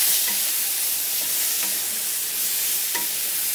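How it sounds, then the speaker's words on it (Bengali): Spiced potatoes and flat beans with chopped tomato, chilli powder and turmeric frying in a pan, a loud, steady sizzle broken by a few brief spatula scrapes as the mixture is stirred. "এখন এটাকে ভালো করে একটু নেড়ে নিচ্ছি।"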